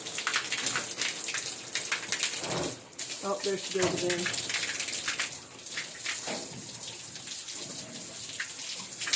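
A sow splashes and plays with water from a pen's watering system, giving irregular splashing and trickling close by, with a person talking over it.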